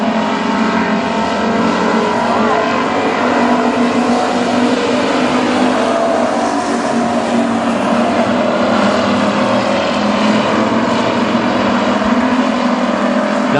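WISSOTA street stock race cars roar around the Princeton Speedway dirt oval, a dense, continuous wash of engine noise at steady loudness with no break throughout.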